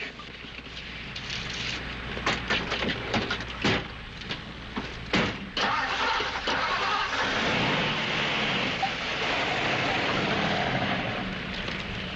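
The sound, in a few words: car driving off down the highway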